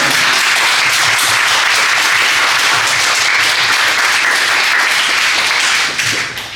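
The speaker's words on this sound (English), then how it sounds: "let's have a round of applause" Loud, dense applause from a conference audience thanking a policy panel, a continuous wash of many hands clapping that holds steady before easing off near the close.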